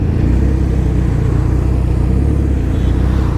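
A Suzuki Hayabusa motorcycle ridden along a waterlogged road, its engine a steady, loud low rumble held evenly throughout.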